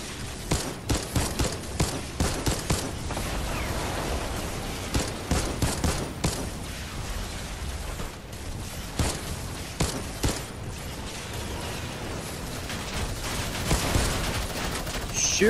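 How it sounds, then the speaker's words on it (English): Minigun fire in Fortnite: sustained, dense rattling bursts of rapid shots, loud and continuous with repeated sharp impacts, voices faintly underneath. "Shoot, what did we just get hit by? Two guys with miniguns."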